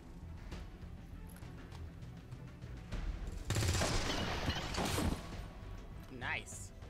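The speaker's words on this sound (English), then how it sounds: "Fire weapon." Weapon gunfire in the video game XCOM 2, a dense burst of rapid shots and impacts lasting a couple of seconds in the middle, fairly loud over quieter game sound, with a voice speaking.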